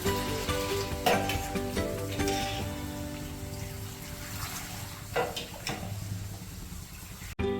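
Boondi batter frying in hot oil, a continuous bubbling sizzle with scattered clicks and light utensil taps, close and steady.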